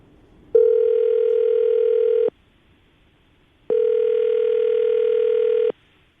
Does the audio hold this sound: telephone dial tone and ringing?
yes